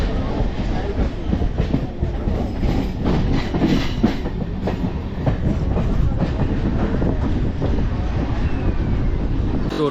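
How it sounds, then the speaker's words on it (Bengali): A Bongaon local train out of Sealdah rumbles loudly and steadily with rhythmic clattering of the wheels and wind buffeting the microphone, a continuous close roar throughout. "তো ট্রেন এখন চলে এসেছে হাবড়া প্ল্যাটফর্মে"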